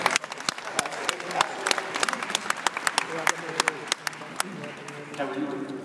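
Audience clapping at a Keller Williams Family Reunion 2014 convention, scattered sharp claps rising and falling across the room, with crowd voices and talk mixed in throughout.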